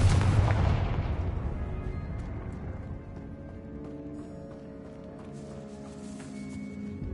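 A Confringo spell in Hogwarts Legacy lands with a loud burst. Its boom fades into a crackling, ringing tail and scattered debris sounds over several seconds. No speech is heard.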